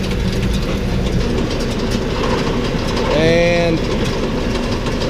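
A New Holland round baler runs with its PTO engaged, making a loud, close mechanical rumble with a brief rising whine partway through; a voice speaks a single word.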